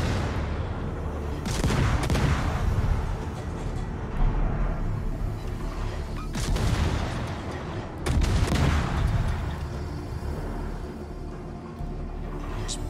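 Warship guns firing at an enemy ship in World of Warships, heavy booming salvos roughly every few seconds with rumbling tails, moderately loud against a continuous low engine and sea drone.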